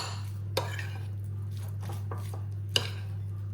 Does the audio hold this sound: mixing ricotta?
yes